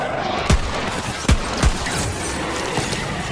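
Borderlands 3 gunfire, three sharp, loud gunshots spaced irregularly over a steady bed of game ambience, followed by a fainter fourth shot.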